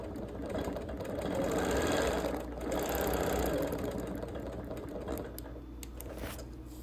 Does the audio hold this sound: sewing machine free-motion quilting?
yes